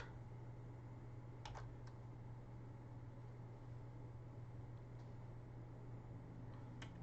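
Quiet, sparse clicks on a computer keyboard while Arduino code for a port expander is typed, a few isolated keystrokes over a steady low hum and hiss, faint and without talking.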